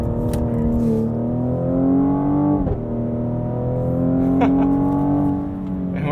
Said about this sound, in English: Whoever's doing the little shift exhaust farts at GM's doing a really good job too.